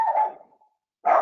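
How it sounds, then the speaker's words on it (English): A dog barks twice nearby, each bark a short, loud, clear burst separated by a brief pause. "Sorry, my dog is barking."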